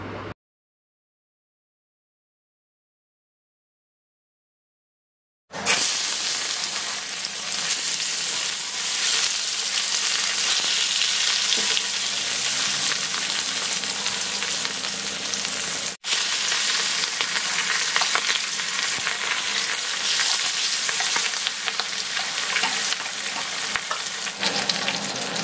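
Rohu fish pieces rubbed with turmeric and salt fry in hot oil in a pan, a steady, loud sizzle that holds for about twenty seconds after a silent start, broken by one brief cut partway through.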